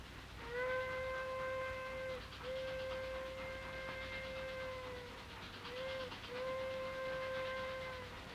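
A train sounds its whistle in long, steady blasts with brief breaks between them, over a constant low rumble of rolling rail cars.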